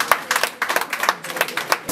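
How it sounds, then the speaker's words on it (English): Audience applause at an award ceremony, a short burst of sparse, distinct hand claps from a small group, fairly close and moderately loud. "A round of applause,"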